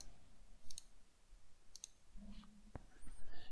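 Computer mouse clicking at a desk while working in point-cloud export software: a few faint, sparse clicks at irregular intervals over a quiet background hum.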